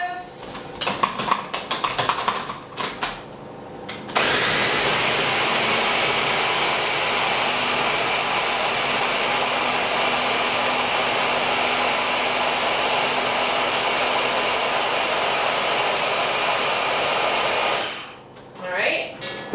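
A Ninja blender mixing waffle batter, its motor whirring loud and steady for about thirteen seconds before spinning down, after a few clattering handling sounds.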